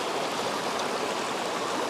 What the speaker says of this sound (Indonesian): Nah ini kita menuju sungainya, Sungai Batu. Airnya deras